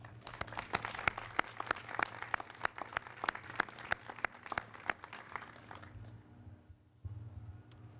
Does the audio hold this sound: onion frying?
no